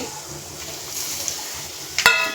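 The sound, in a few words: spices frying in oil: fennel, cumin, cinnamon, curry leaves, mustard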